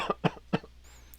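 Three short, close coughs in quick succession, followed by a faint breathy sound.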